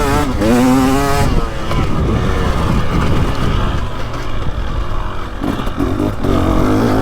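A 2023 KTM 300XC dirt bike engine held in third gear through easy corners, a loud, continuous two-stroke drone rising and falling close by, with a brief high rev at the start and no talking.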